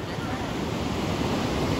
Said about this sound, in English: The water's really moving in.